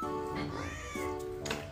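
A single cat gives a drawn-out, low, grumbling meow followed by a short second call, close and fairly loud.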